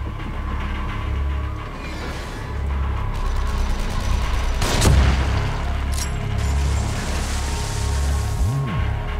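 Sniper rifle shots in The Evil Within, a couple of sharp loud cracks standing out over a low droning game ambience, no talk.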